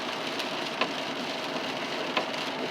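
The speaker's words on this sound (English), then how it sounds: "So it's been raining ever since then." Steady broadband rain hiss from inside a car driving home from Stanton to Northfield, Minnesota, in the first major downpour of the year, with a couple of brief louder drop hits on the body; no talking.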